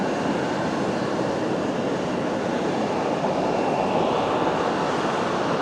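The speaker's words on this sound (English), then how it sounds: "A350-900." Airbus A350-900 jet at Fukuoka Airport, a steady, loud broadband engine roar that holds evenly throughout without pauses or voices.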